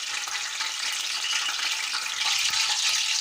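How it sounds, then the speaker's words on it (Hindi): Cumin seeds and black pepper crackle in hot oil, a dense, bright, steady sizzle that holds close and even for the whole stretch. "इसमें ये मिक्स मसाले हैं, ज़ीरा और काली मिर्च, इसको हम थोड़ा सा फ्राई करेंगे"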